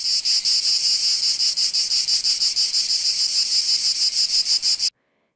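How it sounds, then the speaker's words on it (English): Cicada buzzing song, a loud, close, continuous high-pitched drone pulsing in rapid regular beats for about five seconds before cutting off abruptly into silence. "Cicadas are known for their loud buzzing songs, which can be heard during the summer months in many parts of the world."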